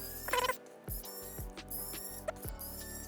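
Small screws being removed from an iPod shuffle during a battery replacement, heard as close ratcheting screwdriver clicks and faint mechanical creaks in a quiet room.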